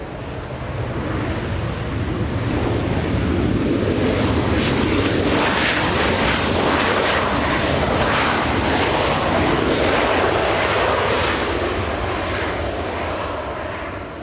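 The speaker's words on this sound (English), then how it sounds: "And right behind the Southwest, we have American Airlines 135 flying in from London, Heathrow." An American Airlines jet arriving from London Heathrow roars in to land at LAX, a loud, broadband engine rumble that swells and holds steady before fading slightly at the end, with no talk over it.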